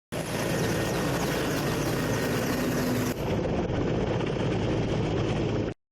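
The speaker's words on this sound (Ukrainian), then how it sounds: "далі переліт на вертольотах до визначених пунктів" A military helicopter ferrying troops roars steadily and loudly throughout, its rotor and engine noise dense and continuous, cutting off abruptly at the end, with no talking.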